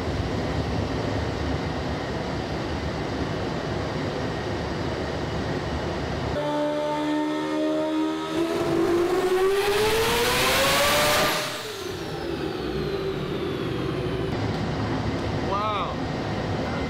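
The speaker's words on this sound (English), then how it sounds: "Burnouts on the dyno." A turbocharged four-rotor Mazda RX-7 does burnouts on a dyno: a loud, steady roar swells into a rising, high-pitched rev sweep mid-way, then drops back to a rough, dense drone.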